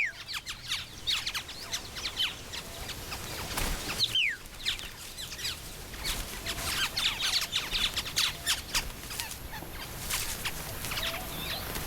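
Male Australian oriole-like birds singing against each other, mimicking other birds, with repeated sharp chirps, whistles and calls over a faint outdoor background.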